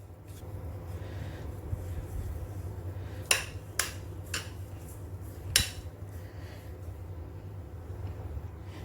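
A ghee-coated spoon spreads and levels carrot and banana halwa in a ghee-greased dish, giving a few sharp metallic taps and clinks against a soft, steady low background hum.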